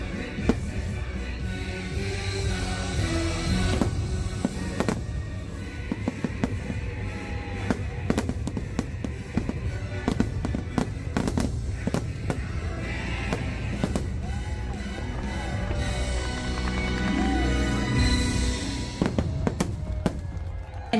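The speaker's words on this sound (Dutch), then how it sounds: "de waanzinnig mooie vuurwerkshow met spectaculair vuurwerk" A Disney Halloween fireworks show bursts with repeated booms, crackles and sharp pops in rapid irregular succession, loud and echoing over faint crowd noise.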